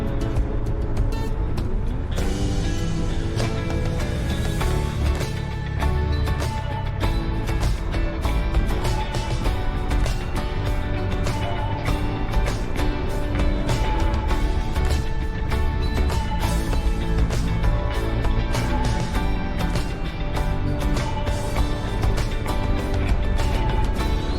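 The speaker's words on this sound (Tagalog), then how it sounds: "Marami ng sasakyan." Steady road traffic from many passing cars, buses and trucks on a roadway in Bataan, Philippines, a dense continuous rumble with occasional air-brake hiss throughout.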